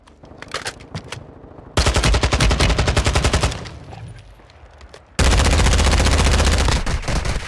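Gunfire in the video game Call of Duty Warzone: loud, rapid automatic bursts arrive in two long sustained volleys, with scattered shots and a quieter gap between them.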